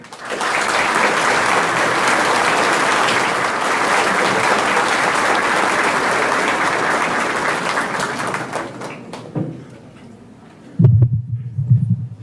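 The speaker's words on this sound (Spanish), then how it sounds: "Fuertes los aplausos." Loud, sustained applause from an audience at an international seminar in Tarija welcoming Baltasar Garzón, filling about nine seconds before fading, followed by a brief low thump and rustle.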